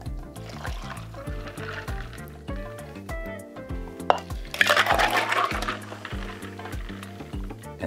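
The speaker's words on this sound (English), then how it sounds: "And we mix this all together with just a pour." Liquid is poured and mixed into an Orange Crush cocktail with Sprite and water, giving a short splashy burst midway through over steady background music.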